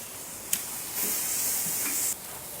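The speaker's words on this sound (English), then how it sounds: "So let's sizzle." A sharp hiss of meat sizzling in a hot pan for a tenderloin sandwich, with a click at first, then a louder burst of frying that cuts off abruptly.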